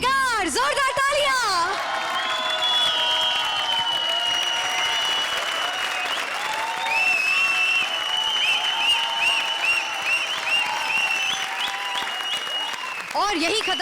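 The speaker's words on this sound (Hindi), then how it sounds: "जोरदार तालियां" Loud, sustained studio audience applause at a televised comedy show, a dense wash of clapping with cheering running for over ten seconds, music tones layered over it.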